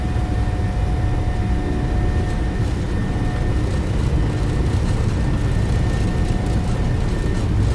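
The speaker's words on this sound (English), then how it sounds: "Takeoff thrust set, indications normal." Boeing 737 jet engines at takeoff thrust during the takeoff roll, a loud steady roar with a thin whine on top, heard from the cockpit with no talk.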